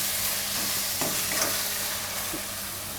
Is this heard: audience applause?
no